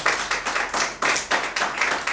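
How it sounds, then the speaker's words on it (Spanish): A church congregation gives a warm round of applause during a sermon, dense clapping that swells in rhythmic waves and carries on throughout. "¿Cuánto le dan un aplauso a mi Jesús en esta tarde?"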